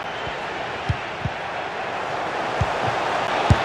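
Stadium crowd noise from a FIFA 23 football match between Getafe CF and Athletic Club fills the space as a constant roaring wash, with a few short low thumps standing out now and then.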